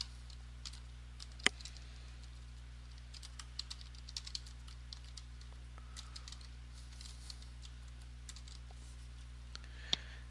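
Soft, scattered computer keyboard taps and clicks over a low steady electrical hum, mostly faint with a few sharper keystrokes.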